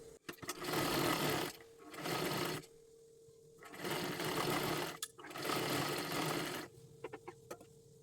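Sewing machine stitching fabric cut from a saree into a dress, running in long steady bursts of a second or more separated by short pauses, close and fairly loud with no talk.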